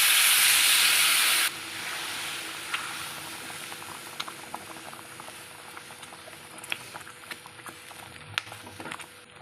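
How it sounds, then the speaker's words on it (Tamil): Fish curry gravy with added tamarind water bubbles and simmers in a pan, a steady close burble with scattered small pops and ticks, after a brief louder hiss of pouring at the start; no talking. "புளியை வந்து இதில் எடுத்து ஊற்றிக்க போகிறோம்."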